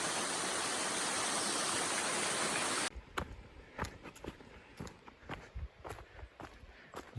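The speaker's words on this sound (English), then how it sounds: "Back to crossing the creek again." A flowing creek on a hiking trail to a waterfall at Laurel Run Park, Tennessee, rushes loudly and steadily at first, then cuts to quieter footsteps crunching and splashing through the shallow crossing.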